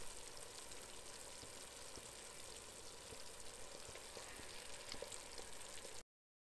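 Meat returned to a hot pan while making Italian tomato sauce, a faint, steady sizzle and crackle with no talking, continuing evenly then cutting off.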